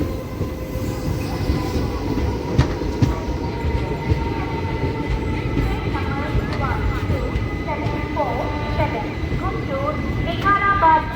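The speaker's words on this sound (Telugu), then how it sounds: "Palnadu Superfast Express is just arriving on platform number 2" Palnadu Superfast Express pulling into platform 2 at Piduguralla station, a loud steady rumble of rolling carriages with wheel squeals and faint clatter throughout, people talking over it.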